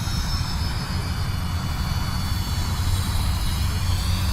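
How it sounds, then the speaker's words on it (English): A Flyzone Fokker Dr1 RC triplane buzzes by on a low pass, its electric motor and propeller giving a steady high whine over a breezy outdoor background, fairly close and loud. "Gonna do a low pass here."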